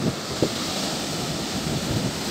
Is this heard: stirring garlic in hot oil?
no